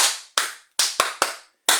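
Applause at a lively gathering comes as a handful of hard, booming claps in an uneven rhythm, each one decaying in a long echoing tail.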